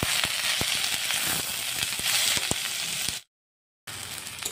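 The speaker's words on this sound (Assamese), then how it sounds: "তেলখিনি গৰম হৈ গ'ল আৰু তেলত দি আছোঁ পিঁয়াজ জলকীয়া আলু এনেদৰে কাটি থোৱা গুটিখিনি একেলগতে দি দিলোঁ" Onion, chili and potato pieces fry in hot oil with a steady, dense sizzle and scattered sharp crackles and pops, loud and close; the sound cuts out briefly near the end, then the sizzling resumes.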